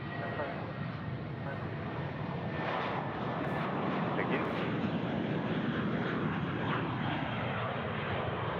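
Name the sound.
Jetstar Airbus A320 airliner taking off at Sydney Airport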